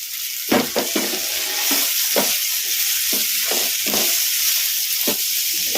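Chopped choli beans (cowpea pods) frying in a pan on a medium flame, a steady sizzle broken by repeated scraping stir strokes at an uneven rhythm, close and fairly loud with no talking.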